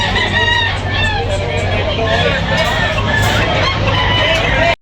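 White rooster crowing loudly and close, a long drawn-out call amid other fowl clucking and crowing, with human chatter murmuring underneath throughout.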